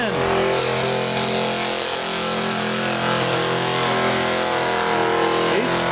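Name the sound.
truck engine running at a truck and tractor pull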